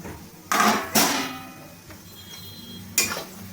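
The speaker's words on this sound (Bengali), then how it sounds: "আমি ঢাকাটা খুলে দেখে নেব।" A metal lid lifted off a cooking pot of ridge gourd curry being simmered before shrimp are added: a couple of close, bright clanks in quick succession, a softer knock, then one more sharp clink, no talk.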